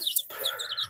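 A chicken gives short, sharp high-pitched clucks and chirps close by, a quick burst of calls within about a second.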